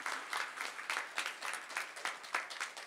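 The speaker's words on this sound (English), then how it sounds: "So let's give those guys a round of applause." A school audience claps in a round of applause, heard faintly and at a distance as a soft, uneven patter of hands rising and falling in loose bursts.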